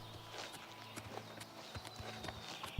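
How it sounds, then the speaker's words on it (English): Horse hooves clip-clop in a steady walking rhythm across a road in Oblivion Remastered, the repeated sharp knocks moderately close over a faint ambient bed, with a louder thump at the very end. "Although somebody traveling on a horse."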